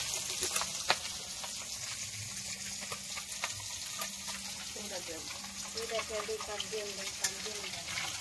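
Fish frying in hot oil in a home kitchen: a steady loud sizzle runs throughout with small crackles and pops, and faint voices talk in the background.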